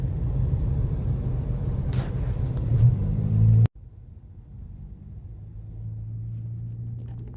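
Road traffic in Chennai, a dense rumble of car and engine noise that stays steady, then drops suddenly partway through to a quieter idling hum.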